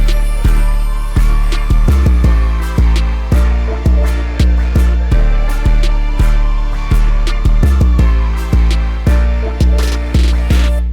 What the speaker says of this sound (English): instead of just playing a note, I added a roll to do this.